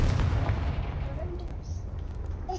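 A Confringo blasting spell in a Harry Potter video game lands as a deep, booming explosion at the start, then a rumbling tail and scattered faint game sounds fade out under it.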